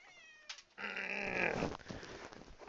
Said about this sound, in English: Meow, kitty.